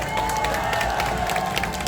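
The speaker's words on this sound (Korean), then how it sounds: "청년들께 박수 한번 부탁드리겠습니다." A crowd at a Korean rally applauds and cheers steadily for marching young people, dense clapping filling the whole stretch with no pauses.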